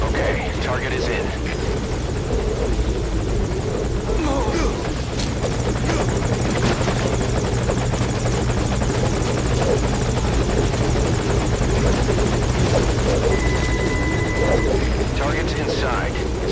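A helicopter hovers at a landing zone in Metal Gear Solid V: Ground Zeroes, its steady, loud rotor drone filling the scene throughout while voices talk over it.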